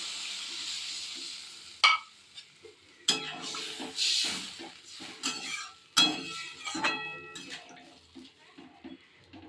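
A pan of masala sizzles as it is sautéed, then water is poured in, bringing sharp bursts of hiss and scraping stir sounds amid quieter gaps, close and fairly soft, with no one speaking.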